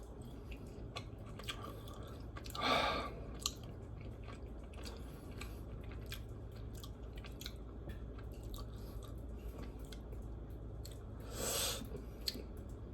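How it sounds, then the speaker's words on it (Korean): Someone chews Korean fried chicken close to the microphone. The sound is quiet, wet and crunchy, with two louder bursts of biting and a soft, continuous mastication in between, and no talking. "자 치킨 맛이 한국 치킨인데 어떤 맛이 나는지 한번 볼게요"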